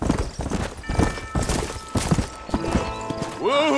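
Horse hooves clip-clop at a quick, uneven pace in the Western video game Red Dead Redemption, close and loud, with a rider's shouts over the hoofbeats and a horse whinny near the end.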